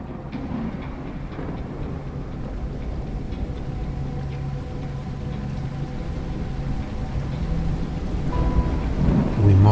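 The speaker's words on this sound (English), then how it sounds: "the sound of rolling thunder slowly closing in, until the thick curtain of rain and mist eventually reaches us" Thunder rolls and rumbles low beneath steady heavy rain, a continuous thunderstorm sound effect for a fantasy adventure story, building slightly louder toward the end with no voices.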